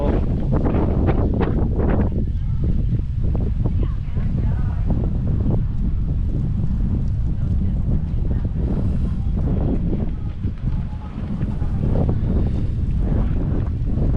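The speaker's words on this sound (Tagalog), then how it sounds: "lakas ng hangin pa rin hanggang ngayon malakas pa rin ang hangin" Strong wind roars and buffets the microphone continuously, with a loud rumbling blast and faint talking beneath it.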